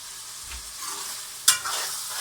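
Minced meat and chana dal frying in a pan with yogurt, stirred: a steady soft sizzle with a sharp scrape or clack partway through, alone without talk.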